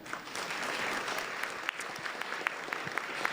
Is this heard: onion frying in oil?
no